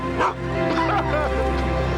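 A dog in a TV commercial gives a few short yips and whimpering barks close up over background music.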